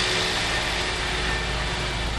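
A tractor engine running on a beach road in Patong, a steady, continuous broadband rumble at moderate distance with no speech over it.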